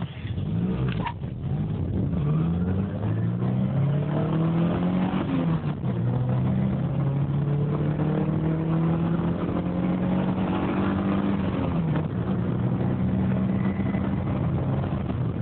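A Chevrolet Colorado pickup with a 2.9 liter inline-four engine accelerates hard from a standstill, its engine note rising steadily through the gears with brief dips at each shift, heard from inside the cab over steady road noise.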